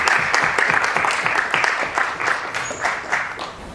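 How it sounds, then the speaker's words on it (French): Audience applause after a technical presentation on BigQuery and deep learning, a steady close burst of many hands clapping that thins slightly toward the end. "on va pouvoir applaudir cette présentation"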